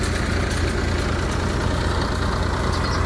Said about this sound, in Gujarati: આ છે ટ્રેક્ટર જૂનું મેસી 241, એ પણ નોર્મલ હાલી રહ્યું છે